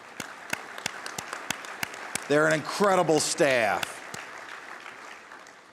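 Scattered handclaps from a conference audience honoring iron worker staff, sounding as sparse, sharp claps running through the whole stretch while someone speaks over them in a large hall.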